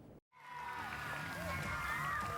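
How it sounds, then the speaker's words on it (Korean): Fans cheer from the stands as Bucheon FC players are introduced one by one at the club's 2026 K League 1 season launch ceremony. After a brief silence, a steady crowd roar rises with faint musical tones. "프로축구 부천FC 선수들이 차례로 등장하자 객석에서 환호가 쏟아집니다."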